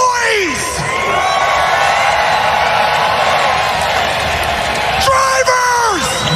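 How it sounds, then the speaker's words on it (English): A loud crowd at the Daytona 500 race roars with whoops, yells and cheering, holding dense and steady throughout. A voice booms over the noise at the start and again near the end. "Daytona, let's make some noise!"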